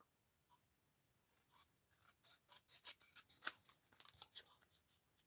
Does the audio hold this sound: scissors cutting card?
yes